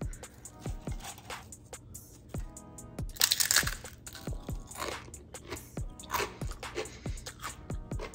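Repeated crisp crunches of homemade air-fried pita chips being bitten and chewed up close, sharp cracking bites spaced through the clip over a quiet room.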